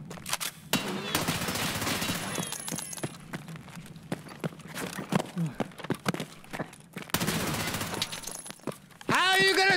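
Gunfire from a weapon in the video game Escape from Tarkov, sharp bursts of shots scattered through the clip with a gap where the gun jams, mixed with a player talking loudly over the action.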